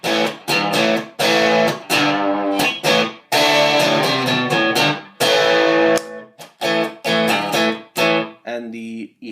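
An electric guitar plays through a Boss BD-2 overdrive pedal, with a dry, gritty tone and no reverb. Chords are strummed in loud, close bursts separated by short gaps, with no voices.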